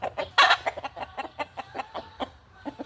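Rooster on a game farm clucking in quick bursts of short, throaty calls, close and clear, with one louder squawk near the start and brief quiet gaps between the clucks.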